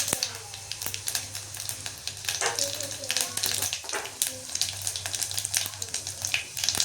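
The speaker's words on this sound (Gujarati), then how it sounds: "હવે આમાં જીરું નાખી, જીરાથી તડકો" Cumin seeds crackle and sizzle in hot oil for a tadka, a loud close hiss with sharp pops and spatters that swell midway and continue steadily.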